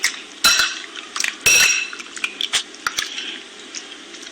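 Fish pieces are mixed with ginger garlic paste in a bowl, giving wet squishing and clinking taps of utensil against the bowl, two louder bursts early, then scattered small squelches, close and without talk.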